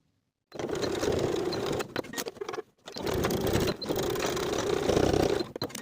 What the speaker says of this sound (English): I'm going to do 2 rows of top stitching once again.